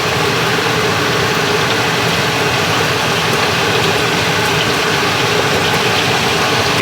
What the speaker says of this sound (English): Alright, I have to turn my blower on.